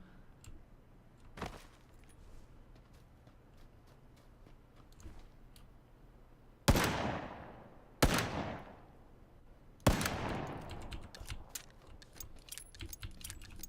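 Gunfire in PlayerUnknown's Battlegrounds: one faint early shot, then three loud, sharp reports with ringing tails, well spaced and near, followed by quick faint clicks over a quiet background.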